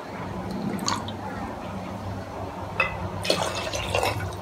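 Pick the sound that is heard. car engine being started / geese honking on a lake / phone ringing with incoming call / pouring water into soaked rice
pouring water into soaked rice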